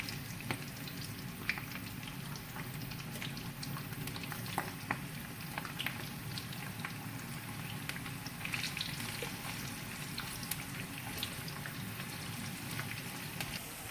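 Karela pieces fry in oil in a pan, giving a steady, even crackle with scattered sharper pops throughout, close and moderately quiet with no voices.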